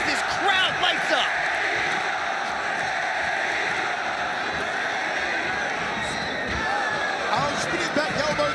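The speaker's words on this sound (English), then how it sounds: "as this crowd lights up" Crowd roaring and cheering at a ONE Championship MMA event, a dense sustained wash of arena noise with a commentator talking over it throughout.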